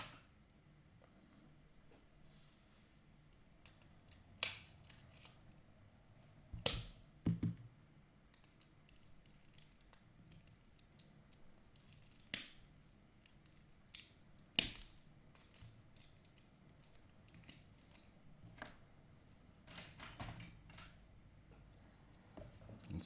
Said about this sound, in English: Where's my snips?